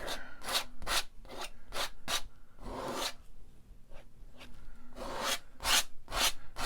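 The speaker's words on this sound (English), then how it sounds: "And I'm also scraping it off, believe it or not." Oil paint being scraped off a mountain landscape painting, a series of short, close rasping strokes in an irregular rhythm, some quick and some drawn out.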